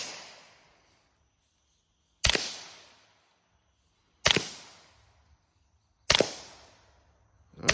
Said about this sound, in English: take it off safety, and put a few shots downrange